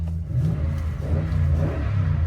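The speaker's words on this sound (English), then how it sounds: "I'm gonna rev this engine up for you too." Engine of a 2015 Toyota Tundra Off Road Limited pickup truck revving while parked, a deep low rumble that swells and eases in repeated surges, close and fairly loud, with no talking.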